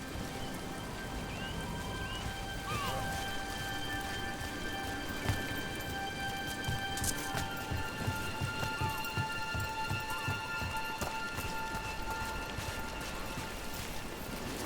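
Steady rain falls in Dragon Age: The Veilguard, a constant hiss with scattered drops, while faint tonal game ambience and soft footstep-like taps sit beneath it.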